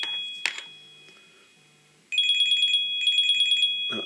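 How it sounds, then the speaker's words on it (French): A telephone rings in two bursts of rapid warbling electronic trills at close range, following a quiet indoor stretch with a few small handling knocks and a brief soft clatter at the end; no one speaks. "Excusez-moi pour ce petit contretemps de téléphone."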